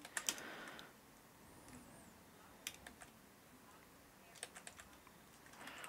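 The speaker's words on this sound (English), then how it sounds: "Sorry if you hear me smashing my keyboard" Rapid computer keyboard typing with sharp, forceful key strikes in bursts: a quick cluster at the start, scattered hits midway, and another flurry near the end, fairly close and moderately loud with no talk.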